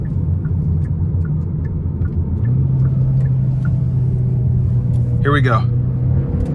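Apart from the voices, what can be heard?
2026 Hyundai Elantra N Line accelerating onto the interstate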